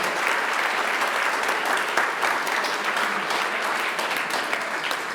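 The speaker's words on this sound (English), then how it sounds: "Can I give you a huge high five and a huge round of applause?" Conference audience applauding after a keynote talk, a dense, steady round of clapping from a large crowd lasting throughout.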